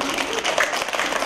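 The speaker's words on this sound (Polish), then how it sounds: "Mamy ręce, no to teraz głośno klaszczemy" A group of children joins in loud, dense clapping during a group activity, a continuous burst of many hands with some voices mixed in.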